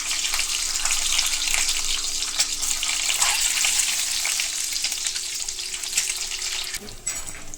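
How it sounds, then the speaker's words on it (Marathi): Cut boiled eggs fry in hot oil on a tava, giving a loud, dense, continuous sizzle that drops off abruptly near the end, followed by a few faint clinks; no talking. "आता आपण ती फ्राय करून घेऊ हे बघा आपलं आता तेल तापले आपण असे त्यामध्ये सोडू फ्राय करून घेऊ"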